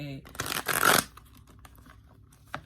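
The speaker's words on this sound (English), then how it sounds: "I picked all the cards that are tough to shuffle, but I love them." An oracle card deck of stiff, hard-to-shuffle cards gets shuffled by hand, a short papery riffle burst and flutter up close, then quiet with a faint tap.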